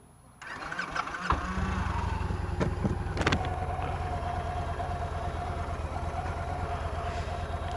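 A motorbike engine is cranked and fires after a short starter whir, then settles into a steady loud idle running close by until the end.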